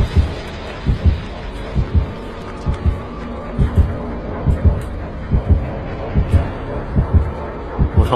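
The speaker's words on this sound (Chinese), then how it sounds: "心跳越接近说明鬼在，鬼就在周围" In Dead by Daylight, the killer-proximity heartbeat thumps in a steady, quick rhythm of low pulses, loud and continuous over faint game ambience.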